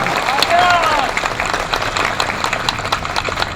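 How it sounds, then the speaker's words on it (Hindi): Loud welcoming applause breaks out at an employees' gathering in Lucknow during a garlanding ceremony, a crowd clapping together under a speaking voice. "जोरदार तालियों से स्वागत।"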